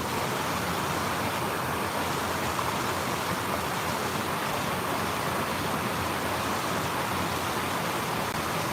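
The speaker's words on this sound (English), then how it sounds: "There's some water coming down." Steady broadband rush of water pouring down during a rainy morning walk in the UK, a continuous close wash of flowing stream or small waterfall with no breaks.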